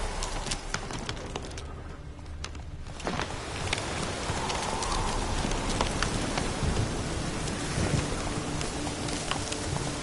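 Roach the horse's hooves in The Witcher 3 video game, a steady patter of clip-clop footfalls under a rain-like hiss, with a brief quieter dip before the rhythmic steps resume and continue evenly.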